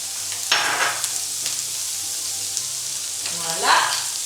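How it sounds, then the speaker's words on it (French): Morel mushrooms sweating gently in a pan with salt and pepper, a low continuous sizzle with a few sharper scrapes and stirs of a utensil against the pan. "on va faire cuire gentiment nos morilles, les suer, les saucer un chouïa"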